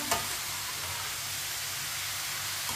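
Grated carrots for carrot halwa cook in a pan, giving a steady, close sizzle and hiss with faint scraping from a spoon stirring.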